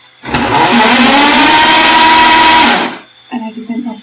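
A homemade remote control DeLorean car's small electric motor whirs loudly for about three seconds, holding a steady whine before spinning down, followed by a brief buzzing patter.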